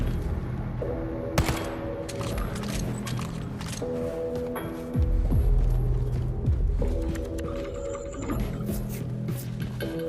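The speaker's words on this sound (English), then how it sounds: "it's easy to get 2 silenced pistols out" Silenced pistols fire in Wolfenstein 2: The New Colossus, set in New Orleans, as a string of muffled shots and mechanical clacks over throbbing game sound effects and music, with some bursts clustered together.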